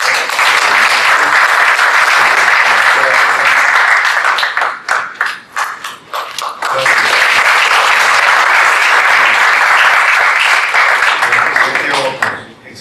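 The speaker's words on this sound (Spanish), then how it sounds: "Muchas gracias. Un aplauso." Audience applause at a medical scientific session on a congenital pulmonary adenomatoid malformation case, a loud sustained wash of clapping that briefly thins in the middle before swelling back up, with no one talking over it.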